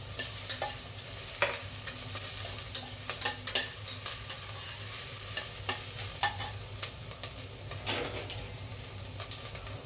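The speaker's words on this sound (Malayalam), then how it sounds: "കണ്ട പച്ചമുളക് അരിഞ്ഞത് ഇട്ട് കൊടുക്കാം." Chopped green chillies frying in a pan for mutton kurma: steady soft sizzling under a run of light spatula taps and scrapes, with no talk.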